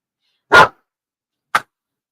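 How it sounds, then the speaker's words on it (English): Dogs bark out in a street: two sharp, loud barks about a second apart, separated by silence. "All the dogs in the street are barking now."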